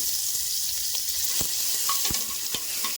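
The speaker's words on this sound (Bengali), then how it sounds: "এবার রসুনটা ফোড়নে দিয়ে দিচ্ছি।" Garlic fries in hot oil as a tempering, giving a loud steady sizzle with scattered crackles and a few scraping stirs throughout.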